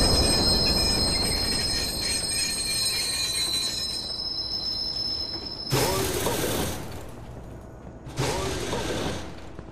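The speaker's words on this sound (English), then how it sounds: "southbound train arriving shortly." A video game subway train on an elevated city line arrives at a station, rumbling as its wheels squeal with a high metallic whine, then sharp bursts of hissing brakes or air release, close and loud.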